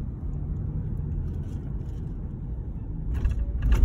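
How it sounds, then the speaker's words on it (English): Road traffic at a busy Friday market, a steady low rumble of car engines passing nearby, growing a little louder toward the end with faint background sounds. "And too much traffic here."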